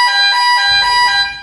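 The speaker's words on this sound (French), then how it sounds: "vous entendez la petite alarme qui sonne" A Lean Andon alarm sounds on the central system of a workstation, a steady, bright, multi-toned electronic ring with a soft low hum joining partway through.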